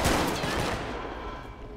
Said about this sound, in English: First beanbag gunshot.